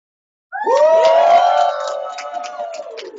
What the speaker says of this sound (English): You want to give a little shout out, a little cheer, go ahead.